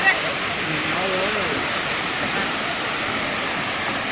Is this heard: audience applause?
no